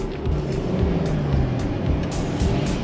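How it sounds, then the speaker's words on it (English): A V8 four-wheel-drive engine running on the sand of K'gari (Fraser Island) beach, a deep steady rumble with rising and falling revs, fairly close, while faint clicks and knocks sound above it. "That V8 sounds good."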